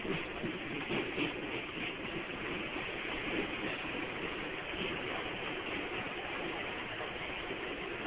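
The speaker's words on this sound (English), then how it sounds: "Is this the same train?" A train rolls along railway tracks in a steady, dense roar with faint rhythmic clatter from the wheels, loud and continuous throughout with no voices.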